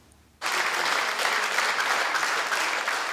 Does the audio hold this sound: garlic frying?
no